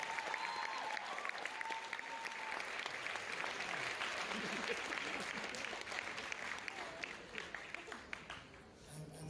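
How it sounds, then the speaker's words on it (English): A seated audience at a business recognition event claps for Sylvia, a sustained wash of applause that stays full and fairly distant before thinning out near the end. "One more time, round of applause for Sylvia."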